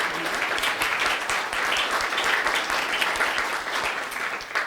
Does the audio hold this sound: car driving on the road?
no